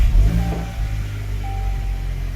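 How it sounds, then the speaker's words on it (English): A car fitted with an APR turbo muffler delete starts up, giving a loud initial rumble that settles into a deep, steady idle close by. "I'm going to start the vehicle."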